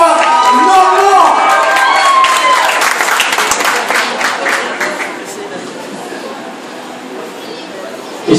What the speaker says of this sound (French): Un tonnerre d'applaudissements pour notre présentateur ce soir, Normand.